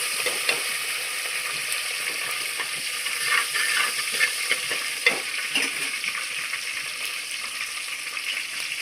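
Steady oily sizzle of sardine masala frying with tomato, ginger and green chillies, with occasional stirring scrapes and clinks over a continuous hiss, close and loud with no talking.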